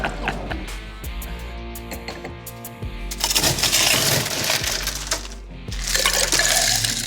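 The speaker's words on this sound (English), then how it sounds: "Something about that sound of ice hitting the glass." Ice clinks and rattles against a glass as a bartender mixes a whiskey cocktail at a competition bar, sharp clatter bursts close by with a steady hum beneath and busier mixing noise in the second half.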